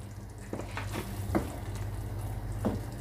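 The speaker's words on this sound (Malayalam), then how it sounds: "ഇത് നന്നായിട്ട് ഇളക്കി മുട്ടയിലേക്ക് ഗ്രേവി എല്ലാം നന്നായിട്ട് കോട്ട് ചെയ്ത് കൊടുക്കുക" Boiled eggs are stirred into a simmering masala gravy for a dhaba-style egg curry, a bubbling, sizzling bed of sound broken by several soft scraping stirs, with no talking.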